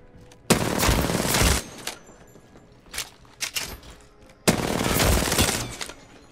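Two long, loud bursts of automatic gunfire from an Apex Legends firefight, separated by a few short, sharp shots, close and dominant with no talk over them.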